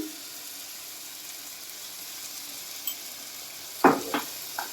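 Spinach with snails cooks in a pan with a steady, even sizzle, then a few scraping, clinking stirs of a utensil against the pan near the end.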